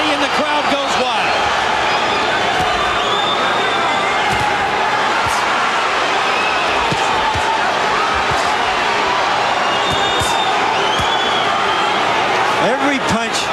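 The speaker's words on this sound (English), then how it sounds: "Tapia to the body and the crowd goes wild." Boxing arena crowd at a world super flyweight title bout roars continuously and loudly, a dense wall of cheering and shouting with scattered sharp bursts, punctuated by commentators talking over it.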